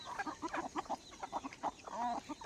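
Free-range chickens on a dung heap cluck repeatedly at close range, a steady run of short, throaty calls with a few higher squawks mixed in, and no talking over them.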